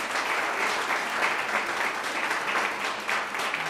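Steady, dense applause from an audience at a public information evening in Salzburg, continuous and fairly close throughout the short stretch without pauses.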